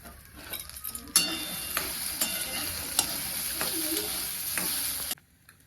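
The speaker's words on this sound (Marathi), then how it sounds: "मी चार मिरच्या टाकून घेते आणि थोडासा लसूण पण ह्यातच टाकून घेते थोडस तेलाची धार टाकते म्हणजे आपलं तुरीचं बी पटकन भाजलं जाते" Pigeon pea beans roast in a pan with a drizzle of oil, green chillies and garlic, giving a steady close sizzle while a utensil stirs and scrapes with occasional clinks against the pan.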